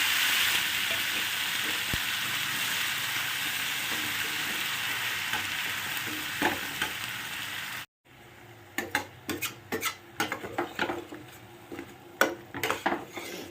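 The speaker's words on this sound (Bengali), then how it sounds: "আমি একটু হলুদ কাশ্মীরি মির্চ কালারের জন্য নুন দিয়ে দিয়েছি দিয়ে একেবারে কষিয়ে নেবো এটা" Spice paste of turmeric, Kashmiri chili and salt cooking down in hot oil for a river-fish and potato curry: a steady loud sizzle for several seconds, then quieter frying with a string of sharp scrapes and clinks from stirring.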